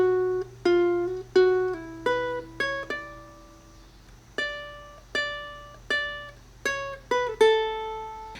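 Ukulele picking out the Epona's Song melody from The Legend of Zelda, a dozen or so clear plucked notes with ringing decays in a slow, lilting rhythm, played alone and up close.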